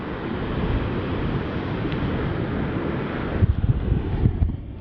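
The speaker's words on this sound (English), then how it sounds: "It's quite windy." Wind buffets the microphone on a quiet Byron Bay beach near a lighthouse at sunset, a steady low roar with a few heavier gusty thumps near the end, no voices.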